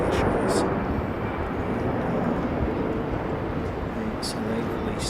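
A leased Qantas passenger aircraft passes during plane spotting at Sydney, a steady broadband jet roar that fills the whole stretch, with a person talking over it.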